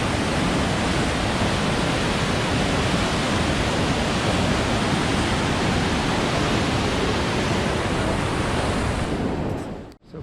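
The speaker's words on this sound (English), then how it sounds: "and there we have the waterfall" Waterfall at a natural bridge in Yoho roars as a dense, steady wash of rushing water, loud and unbroken, then cuts off abruptly at the end.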